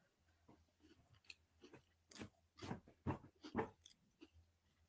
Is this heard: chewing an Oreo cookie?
yes